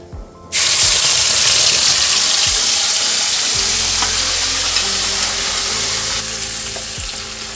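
Coriander-leaf paste hits hot oil tempered with dried red chillies and cumin, bursting into a sudden loud, close sizzle after a quiet moment, then hissing steadily and easing slightly, with no voices.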